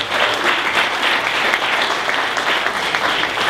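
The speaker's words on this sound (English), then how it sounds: "Round of applause" Audience applause after a short lightning talk, a dense, steady wash of many hands clapping at fairly close range throughout, with no speech over it.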